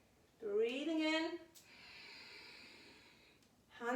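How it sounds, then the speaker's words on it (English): A deep, audible inhale during a yoga flow, drawn in slowly and close to the microphone for about a second, followed by a softer, sustained airy exhale-like hiss and the start of another breath, with no talking. "Breathing in."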